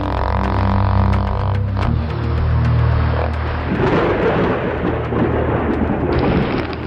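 Heavy rain pours during a thunderstorm on a steep uphill road across Borneo, a loud roaring wash with low rumbling, over the steady drone of a vehicle engine in the first seconds, with no talk.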